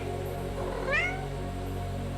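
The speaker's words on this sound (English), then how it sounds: "the 3 giants' cats meowed a greeting to the rainbow cat." Cat giving a single short meow, a rising, bright call near the middle, heard close and fairly clear over a constant low hum with no speech.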